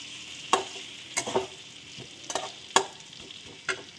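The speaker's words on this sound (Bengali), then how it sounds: "আলুটা দিয়ে ভালো করে মশলাটা কষিয়ে নিচ্ছি আবার, যাতে আলুর মধ্যে ভালো করে মশলাটা ঢোকে" Potatoes frying with spices in a pan while being stirred, giving a steady soft sizzle broken by several sharp scraping clicks of the spoon against the pan, close and fairly quiet, with no voices.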